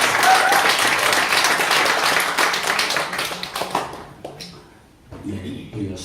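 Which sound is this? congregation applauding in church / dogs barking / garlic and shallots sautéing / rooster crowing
congregation applauding in church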